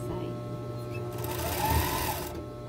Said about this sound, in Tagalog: Tahiin naman po natin yung kabilang side.